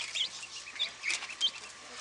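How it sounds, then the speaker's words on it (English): Fancy ducks shut in a pen call from somewhere in the background, faint, scattered short squawks over a quiet, steady hum. "And all the other ducks are locked up right now, so you can probably hear them in the background."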